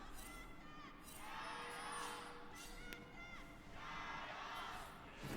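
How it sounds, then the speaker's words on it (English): Crowd cheering at a League of Legends esports match between JDG and FPX in the LPL: two swells of arena cheering and shouting rising and falling in waves, fairly faint and distant under the broadcast sound. "We'll listen to the cheers."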